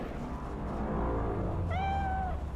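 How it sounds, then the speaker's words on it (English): A single drawn-out cat meow rises clearly over a steady low background of game ambience in Cyberpunk 2077, heard near the end of the moment. "Cat! Actual cat!"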